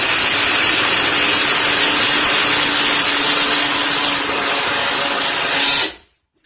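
A blender whirs loud and steady, mixing an ISOPure protein shake for about six seconds before it cuts off abruptly into silence, with no voices over the motor.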